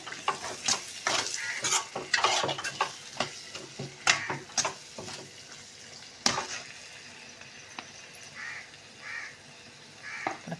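Turmeric stirred into cooked masala in a frying pan for okra fry: a low sizzle under repeated scraping spoon strokes against the pan, irregular and close, with a crow cawing faintly in the background.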